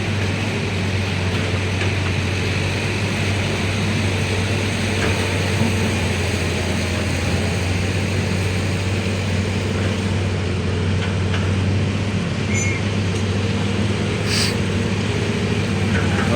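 A small dump truck hauling dredged river fill soil rolls along a rural road, a steady, loud engine drone and road rumble with no change in level throughout.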